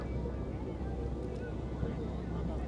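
A tour boat's engine drones low and steady as a Barcelona harbour ride sets off along the Mediterranean coastline, heard as a constant rumble with someone talking over it.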